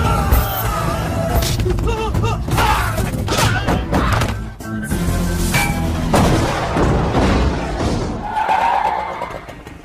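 A police car blows up in a film action scene, with dense booming blasts, heavy thuds and crashing debris running almost continuously, loud and close, with no speech.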